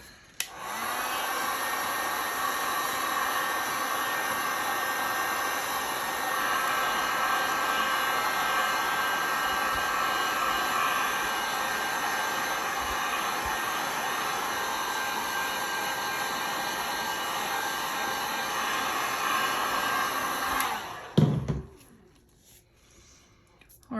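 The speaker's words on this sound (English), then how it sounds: "let me hit this with the heat gun" A heat gun blows steadily over freshly poured resin coasters, a loud continuous airy roar lasting about twenty seconds before cutting off abruptly, leaving near silence.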